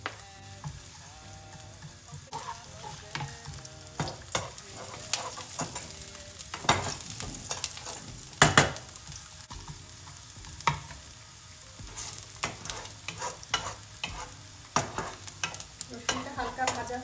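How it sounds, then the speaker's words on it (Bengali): Garlic frying in oil in a pan, a steady soft sizzle broken by frequent scraping and stirring knocks of a utensil, close and moderately loud, with no talk. "রসুনটা হালকা ভাজা হয়ে এসছে"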